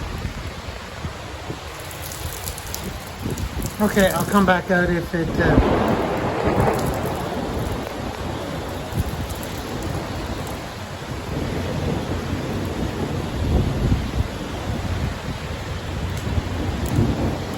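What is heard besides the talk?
heavy rain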